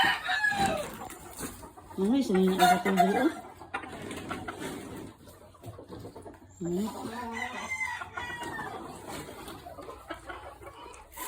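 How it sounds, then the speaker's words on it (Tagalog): Chickens cluck and a rooster crows nearby, with someone talking over parts of the birdsong. "Daghan kay manok ko."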